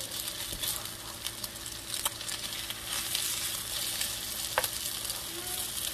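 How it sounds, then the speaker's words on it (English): Steady crackling sizzle of grease frying salmon patties in a pan, continuous hiss with occasional sharper pops throughout. "that grease was sizzling"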